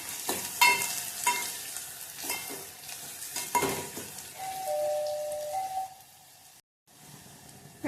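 Onion and cumin frying in hot oil while being stirred, a soft continuous sizzle broken by scraping spoon strokes, with a brief ringing tone partway through and a short silent gap near the end.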